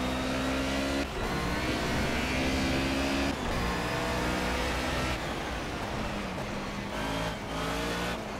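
A Mercedes 190E racing at Brno in the rain in Project CARS, its engine revving hard and loud as the rear wheels spin, with the drone continuing alone and steady for several seconds.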